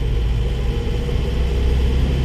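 A Force Traveller 3700 van engine drones steadily while driving at about 80 km/h, a constant low rumble with road noise filling the cabin and no breaks in level.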